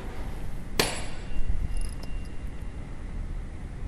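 A tuning fork is struck once with a sharp knock, leaving a thin, faint high ringing tone that fades over a few seconds. The setting is quiet and no one speaks.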